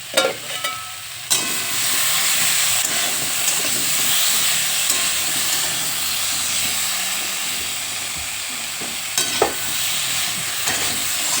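Mango boiling in a covered pot for a sour vegetarian dish gives off a loud, continuous hiss of steam, close by, with a few clanks near the start and again later and no speech.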